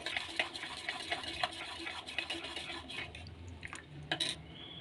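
A spoon stirring Complan mixture in a pot on the stove: a soft, steady wet swishing with light scraping and occasional clinks of metal against the pot, close and fairly quiet.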